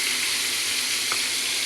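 Fish sizzling as it fries in a home cooking pan, a steady broadband hiss throughout with a faint clink partway, no talking.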